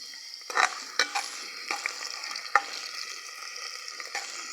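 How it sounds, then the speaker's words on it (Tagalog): Garlic crackles and sizzles in hot oil in a pan, a steady close frying hiss broken by a few sharp pops and stirring scrapes. "Nya pabuto na to ang ahos"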